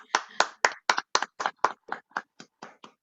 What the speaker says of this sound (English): Can we have like a round of applause for the Upadhyay sisters?